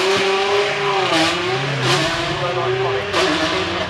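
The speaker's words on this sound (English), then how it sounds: "big V8 in the back." Big rear-mounted V8 supercar engine revving at the Goodwood Festival of Speed, a loud throaty tone rising and falling in repeated bursts, with crowd and commentary voices underneath.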